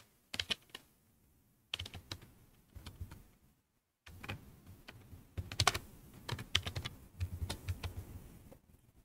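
Python code is typed on a computer keyboard in irregular bursts of close, soft key clicks, with a short silent break partway through.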